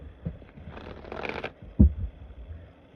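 A deck of tarot cards is shuffled in a brief riffling burst, followed by a soft thump as the cards are tapped together, close and fairly quiet.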